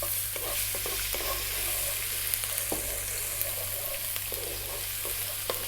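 Garlic and ginger sizzling in hot oil in a wok: a continuous close crackling hiss with scattered pops and occasional scrapes of stirring, no voices.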